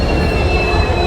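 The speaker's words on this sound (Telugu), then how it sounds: "ఇప్పుడే WTG4 లోకోమోటివ్ అయితే తీసుకొస్తుంది రేక్ని." A train rake of the Tirumala Express rolls into an Indian railway station behind a WTG4 locomotive, a loud steady rumble of wheels on rails with a thin squeal running throughout.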